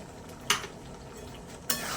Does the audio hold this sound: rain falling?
no